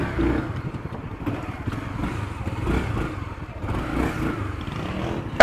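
Honda CB300R motorcycle with a diffuser exhaust, rumbling and revving steadily close by with uneven throttle pulses throughout.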